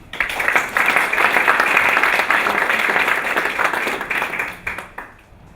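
An audience breaks into sustained applause for Dennis Redmond at an evening talk, dense clapping swelling quickly, holding steady for several seconds, then thinning out and fading near the end.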